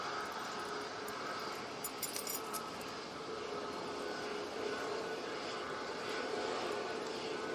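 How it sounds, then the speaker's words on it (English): Jet2 airliner jet engines at an airport, a steady broadband roar holding evenly throughout with no talk over it. "Jet2 coming on now."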